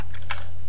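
Keys on a computer keyboard clack in a quick cluster of two or three close, crisp taps over a low steady hum.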